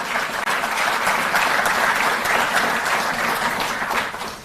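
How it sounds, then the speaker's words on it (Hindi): Loud, sustained applause from the audience at a Delhi government sports awards ceremony, a thick steady roar of many clapping hands holding full strength throughout before easing slightly at the end. "जोरदार तालियां।"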